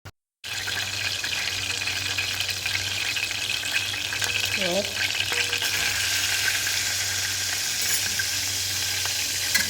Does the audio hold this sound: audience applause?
no